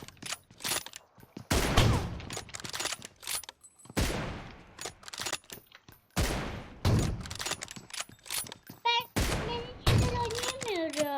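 Bursts of automatic gunfire in the battle royale game PUBG Mobile during a one-on-one match, rapid volleys repeating every few seconds with game mechanism clicks, under excited talk from a player.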